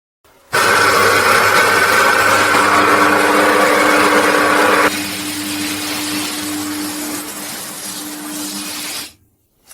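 An espresso machine brewing a shot on a pressure profile gives a loud, steady pump hum and whir that starts abruptly, drops to a softer drone about halfway through, and then cuts off.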